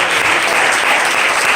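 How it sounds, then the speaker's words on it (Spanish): A congregation at a preaching service breaks into loud, dense applause, a continuous burst of many hands clapping close by. "Denle un aplauso"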